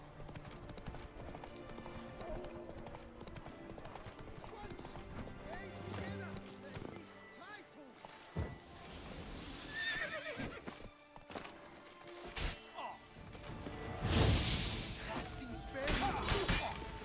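Geralt's horse Roach from The Witcher 3 video game: clip-clopping hooves and loud whinnying neighs, with crashing sounds and a voice talking over the galloping.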